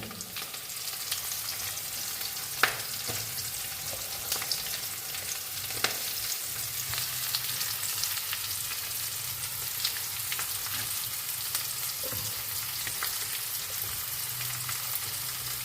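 Shallots and ginger fry in a hot pan with a steady, hissing sizzle throughout, broken by a few soft clicks from a stirring utensil, close and fairly quiet, with no talking.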